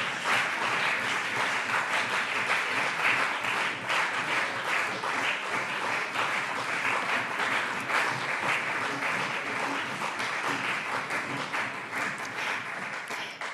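Parliamentarians applaud after a speech in a plenary session of the Hessian state parliament, with dense, sustained clapping that stays loud and steady for over ten seconds.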